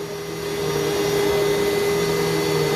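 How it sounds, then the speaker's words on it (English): A vacuum cleaner runs steadily on carpet, a loud, continuous motor whine with a constant hum that holds evenly throughout, close by and with no talking over it. "You like to vacuum the carpet?"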